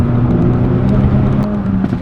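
A Hyundai i30N hot hatch's engine drones loud and steady from inside the car during acceleration, with a few brief sharp crackles near the end.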